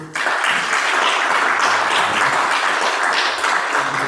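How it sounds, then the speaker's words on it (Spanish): An audience at a philosophy congress on Heidegger in Santiago de Chile bursts into applause for a speaker, a dense, even wash of clapping that starts abruptly and holds steady throughout. "Le damos un aplauso"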